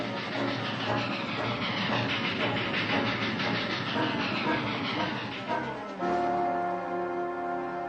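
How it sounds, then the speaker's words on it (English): A train rumbles and clatters past with a dense, steady roar, then a long hiss of steam and a sustained tone as it slows. "The train's coming."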